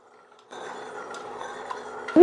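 Jaggery syrup, dissolved and strained, poured and stirred into a boiling pot for a sweet dish: a steady low liquid swirl with faint metallic scraping, ending in a sharper clank at the close.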